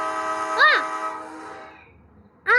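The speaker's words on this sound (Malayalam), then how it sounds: "ഞാൻ ഹോണ് കേട്ട് സ്റ്റാർട്ടായിന്നാ തോന്നുന്നു" A train horn sounds as the train starts to move, a loud held blast followed by a second short blast, over a low rumbling background.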